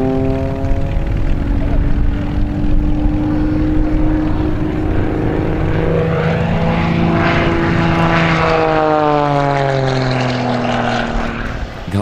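An Extra 300 SR aerobatic propeller plane performs at the CIAF 2011 air show in the Czech Republic. The engine drones loudly and steadily, and its pitch sweeps as the plane passes overhead.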